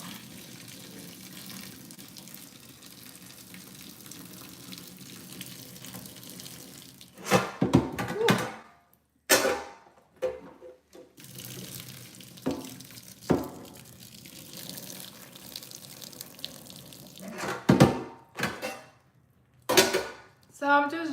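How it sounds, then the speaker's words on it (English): Hot water is drained off lasagna noodles into a kitchen sink: a steady rushing pour runs for several seconds, then gives way to uneven splashes and clanks of a pot and dishes, with brief pauses between the bursts. "So I'm just draining the water, the hot water off the lasagna noodles."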